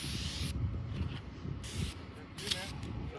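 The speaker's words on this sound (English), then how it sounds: "I'm going to get double sprayed because I always burn." Alba Botanica sunscreen sprays onto an arm outdoors in Las Vegas in three short hissing bursts at close range, mixed with people talking and background noise.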